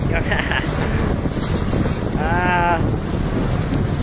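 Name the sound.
boat sailing in strong wind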